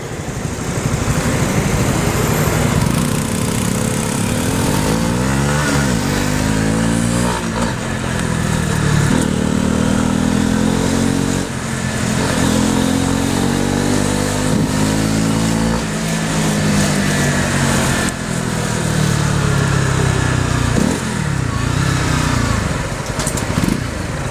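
A small motorcycle runs close by on an urban street, its engine buzzing and droning, swelling and dropping with repeated revs and gear changes over a long stretch, with faint clatter and no voices.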